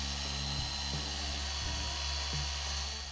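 An Adam's Swirl Killer Mini orbital car polisher with a 13 millimeter throw runs at a steady high-pitched whine, with a few short tonal shifts as it works, close and alone without speech.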